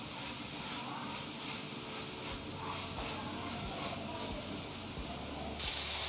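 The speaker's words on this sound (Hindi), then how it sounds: "इसे हम फ्राई करेंगे" Chicken fries with black pepper in a pan, giving a steady, fairly soft hiss and sizzle that runs without a break and swells slightly near the end.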